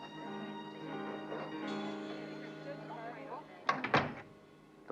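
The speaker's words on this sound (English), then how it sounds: "And close the door, will you?" A door in a 1978 crime drama thuds shut with a short double knock near the end, following steady background music and ambience.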